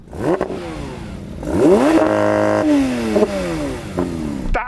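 A Porsche 911 GT3 RS and a Maserati MC20 revving their engines: sharp rising blips, a sustained high rev with strong harmonics, then falling and climbing again, loud and close with no talk.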